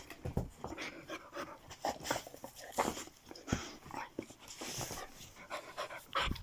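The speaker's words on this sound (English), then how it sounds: "Even the phone's getting a lick and wash now, look." A very attached dog licks its owner's head up close, with rapid wet lapping bursts mixed with steady panting breaths.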